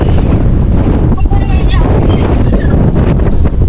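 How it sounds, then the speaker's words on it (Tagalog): Strong wind buffets the microphone on a small fishing boat at sea, a loud, continuous roar and rumble with faint voices barely showing through. "Lakas ang hangin."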